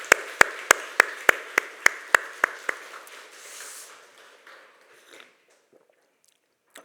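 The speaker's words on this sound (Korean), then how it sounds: "격려와 칭찬의 박수로 함께 올려드리겠습니다" Congregation at a church evening prayer meeting clapping in unison, about nine sharp, evenly spaced beats that quicken slightly and then break into a brief scattered round of applause before falling quiet.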